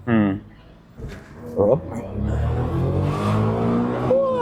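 A small roadster engine revs hard toward 8,500 rpm in loud rising bursts, then holds a sustained buzzing drone, close by, with people talking over and around it.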